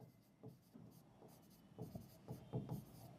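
Hand writing on paper during a lesson, faint scratchy pen strokes in short irregular bursts, quiet and close.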